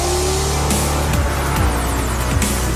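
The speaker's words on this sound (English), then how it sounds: "The McLaren Ultimate Vision GT, it's a sensory overload, incredible sound, acceleration through the roof." A McLaren Ultimate Vision GT engine revs hard and climbs through several upshifts, loud and close, with rising whines and brief dips between gears.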